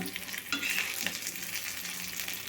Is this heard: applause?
no